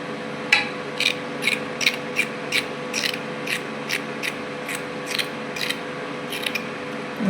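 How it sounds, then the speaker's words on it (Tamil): A peeler shaves the skin off carrots in short, steady scraping strokes, about a dozen of them at a regular rhythm. The strokes sound close and moderately loud over a faint background hum. "இந்த மாதிரி தோல் சீவி எடுத்துக்கிறணும்."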